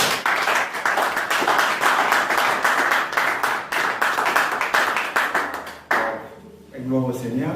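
A church congregation at a French-language sermon clapping in praise of the Lord, a loud, dense, rhythmic applause that continues for several seconds before fading as a voice begins speaking and cheers rise.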